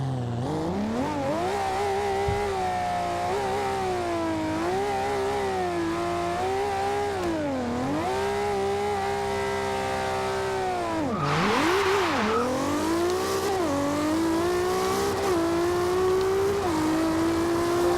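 A Toyota Supra in Forza Horizon 2 accelerates hard through the gears, its engine whine rising and dropping at each shift, loud and steady, with a brief burst of tire or wind noise midway and no talk.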